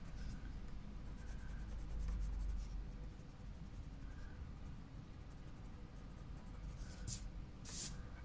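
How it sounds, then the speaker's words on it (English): Pencil lines being rubbed out with an eraser on drawing paper, a soft, close, steady scratchy scrubbing with a few short bright strokes near the end. "Now I can just erase these ones."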